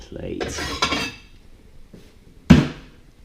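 A plate is taken out in a home kitchen while making fried tofu, with soft clatter early on and then one sharp ceramic clink close by.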